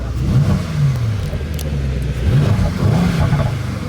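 A Mercedes E63 S engine rumbles deeply and revs up and down, with a few crackling burbles popping over the steady low growl.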